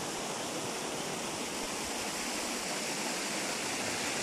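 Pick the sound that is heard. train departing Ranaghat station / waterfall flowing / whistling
waterfall flowing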